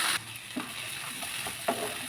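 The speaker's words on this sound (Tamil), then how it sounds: "இது கூடவே கொஞ்சம் புளி இப்போ நம்ம வதக்கலாம்" Mudakathan greens and tamarind sautéing in a pan, a quiet sizzle with a few soft spatula strokes, no voices.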